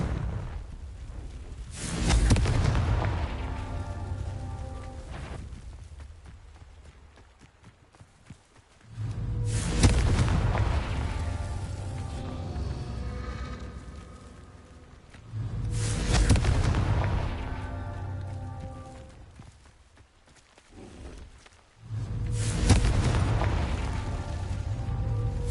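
Confringo spell blasts in the Hogwarts Legacy video game land as four deep, booming explosions spaced several seconds apart, each one swelling and then rumbling away.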